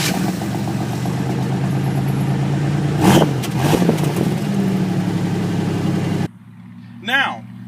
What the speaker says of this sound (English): I'll go ahead and start it up and let you hear what it sounds like.